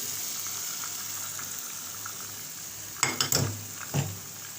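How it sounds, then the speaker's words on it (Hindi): Half a cup of water poured into a pan of chicken korma cooking with garam masala, bursting into a few short splashy pours and sizzles near the end after a steady low background hiss. "ये देखें इसके हमने पानी डाल दिया आधी प्याली"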